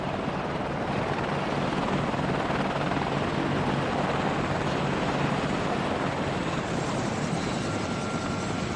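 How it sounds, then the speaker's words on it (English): Black Hawk helicopter arriving in the WARNO military strategy game, its steady dense rotor and engine roar holding loud and constant throughout with no talk over it. "Okay, so Black Hawk's coming in."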